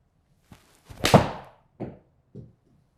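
A golf iron strikes a ball with one sharp, fairly loud impact that rings out briefly, framed by a few softer thuds before and after.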